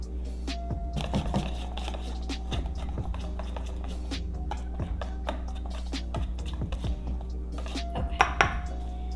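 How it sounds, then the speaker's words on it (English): Ube and pandan waffle batter mixed in a bowl, giving irregular clinks and scrapes of utensil on bowl over a low steady hum, fairly quiet with occasional sharper knocks. "So now I'm just mixing our batter, and it's a little bit lumpy"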